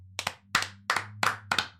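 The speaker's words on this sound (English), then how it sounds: "if you clap, go ahead, clap" A handful of people clap in five separate bursts, each a quick double clap, thin and sparse like about three people applauding at a small political gathering, over a steady low hum.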